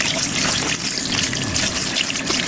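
Tap water runs steadily over fresh anchovies being rinsed in a sink with vinegar, a loud continuous splashing stream with no voices.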